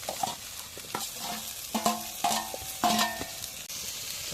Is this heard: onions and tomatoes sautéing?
yes